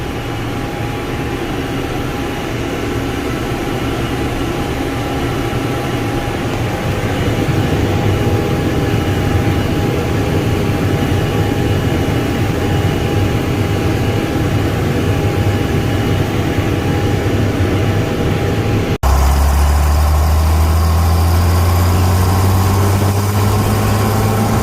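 A John Deere 5010 tractor engine runs steadily in a hay field as a loud, continuous rumbling drone, with a sudden shift to a deeper, heavier engine tone near the end.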